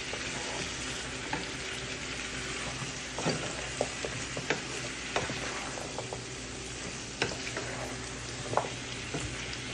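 Spices and chilies sizzle and fry in a pan while being stirred, a continuous crackling hiss broken by scattered scraping knocks from the utensil, heard close with a faint steady hum underneath and no speech.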